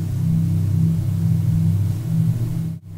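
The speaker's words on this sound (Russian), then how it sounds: "эта машина издает такой еле слышный гул" A stationary Mercedes EQS electric car gives off a steady, low, smooth hum, faint but continuous, ending in a brief soft disturbance.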